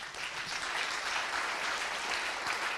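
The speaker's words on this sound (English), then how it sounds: "Time for applause for them." Audience applause for a panel of speakers closing a conference debate, a dense, steady wash of clapping from a crowd in a hall, fairly loud and continuous throughout with no voices over it.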